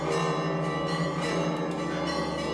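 Loud, sustained ringing of church bells in the Holy Land, tones overlapping into a dense, continuous wash of sound.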